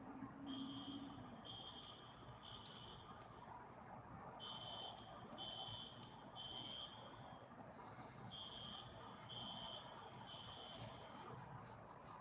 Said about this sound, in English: Don't tell me the fire alarm went off when I'm about to go in there and do some work.